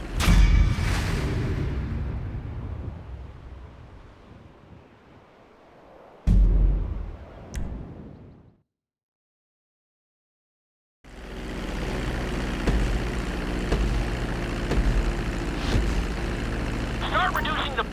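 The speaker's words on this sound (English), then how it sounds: "Now let's get the plane off the runway." Aircraft engine drone from GTA 5 flight training, a steady broad mechanical hum that fades, cuts to brief silence, then resumes loud and continuous.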